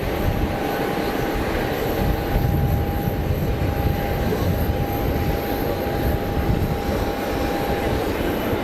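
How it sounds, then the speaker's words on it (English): An Etihad Boeing 787 Dreamliner lines up on the runway at Geneva Airport, its engines giving a steady broad roar with a faint continuous whine, heard from a distance over outdoor wind noise. "Etihad Dreamy is lining up"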